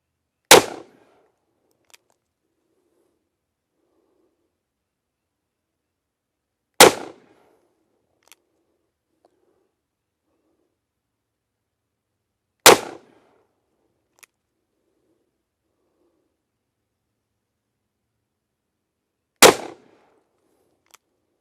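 Four loud, sharp gunshots from a Cimarron .44 Magnum revolver firing 210 grain Sierra rounds at a range, spaced about six seconds apart, each with a brief echo and quiet between.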